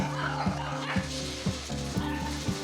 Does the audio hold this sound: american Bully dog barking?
yes